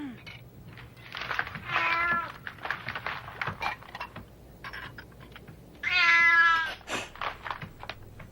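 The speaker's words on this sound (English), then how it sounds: "What? A cat?" A cat meows several times, a drawn-out call near the start and a longer, louder, tonal one toward the end, with softer rustling and quiet movement in between.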